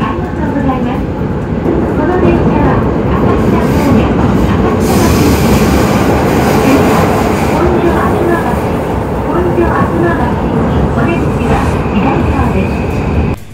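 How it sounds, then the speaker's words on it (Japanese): A Toei Asakusa Line local train pulls out of Oshiage Station, a loud, steady underground rumble with rattling wheels and clatter that rises in the middle and holds until an abrupt cut, while someone talks over it. "各駅停車、浅草橋行きは時刻通り押上駅を出発します"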